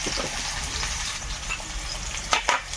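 Greens and chopped onion fry in hot oil in a home kitchen, a steady close sizzle throughout, with a couple of sharp utensil clatters near the end and no talking.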